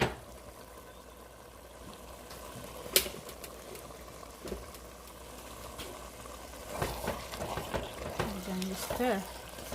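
A pot of spinach stew, also called palava sauce, simmers with a soft bubbling sizzle while a spoon stirs it with scrapes and knocks that grow louder toward the end.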